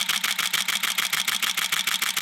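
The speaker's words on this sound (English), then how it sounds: "still think it has a really nice shutter sound." An older camera's shutter fires in a rapid continuous burst, a fast even train of mechanical clicks, close and fairly loud, with no talking.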